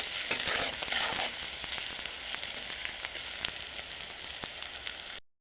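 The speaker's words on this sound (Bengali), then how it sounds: "এখন আমি পেঁয়াজটা ভালো করে ভেজে নেব হালকা ব্রাউন কালার করে।" Onions sizzling in a frying pan while being browned for a simple iftar chickpea dish: a steady, close crackling fry with occasional stirring clicks, cutting off abruptly at the end.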